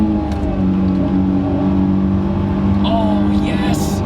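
A Honda S2000 engine drones steadily from inside the cabin with the windows up, a continuous loud hum that rises slightly toward the end, with a voice briefly heard over it.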